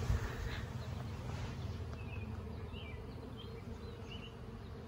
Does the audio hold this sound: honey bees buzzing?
yes